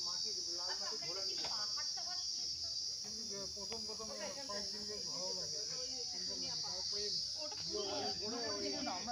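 Continuous shrill cricket chirping in Joypur Forest rings throughout at an eco resort, constant and fairly close, with voices chatting underneath.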